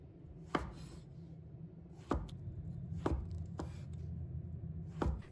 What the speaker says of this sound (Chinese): 洗干净的杏鲍菇控水捞出，放在菜板上，先给它切成菱形段